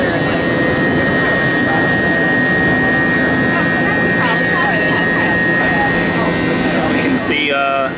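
Steady, loud jet engine roar fills the cabin of an Airbus A320 on the ground at Fort Lauderdale, a constant broadband rush with a faint whine and small clicks near the end.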